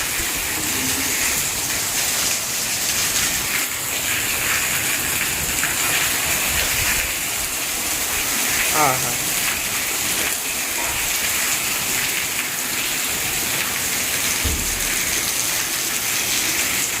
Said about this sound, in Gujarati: આ જો કેવો વરસાદ આવ્યો અત્યારે, અચાનક જ બહુ જ આવ્યો